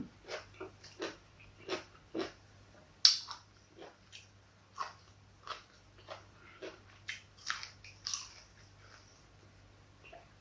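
Crunchy bites and chewing of spicy Thai green bean salad with crisp grilled chicken, a dozen close, sharp crunches at an uneven rhythm over a faint steady hum, with no talking.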